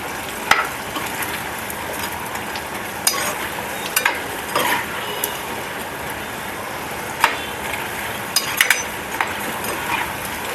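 Corn flour and idli batter with salt being mixed in a bowl, a steady soft wet stirring with occasional spoon clinks against the rim, close and continuous with no talking.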